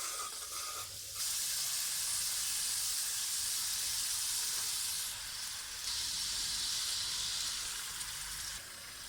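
Fried chicken pieces tipped into an onion and egg gravy with separated oil, bursting into a loud, close hiss of sizzling that swells, dips briefly and surges again without any talking.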